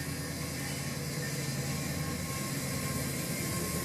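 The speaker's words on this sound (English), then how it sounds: "And there's a train going by." A steady, dense rumbling roar of a passing train, continuous and fairly loud throughout, with no speech.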